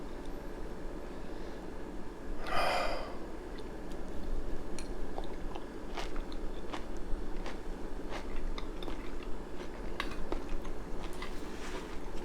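A bite of tuna kimchi stew with broth is taken, giving a sharp crunch near the start and then quiet, soft chewing and small ticks over a low background hum, with no voices.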